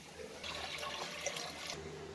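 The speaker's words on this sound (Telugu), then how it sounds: "నీళ్ళు మనము మునిగేంత వరకు పోసుకోవాలండి మునిగేంత పోసుకున్నాక కూడా చూసి మళ్ళీ పోసుకోవాలండి" Water is poured over soaking lentils for sambar, a soft, quiet, steady splashing rush that lasts the whole short stretch with no talk.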